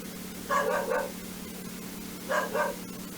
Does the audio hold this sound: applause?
no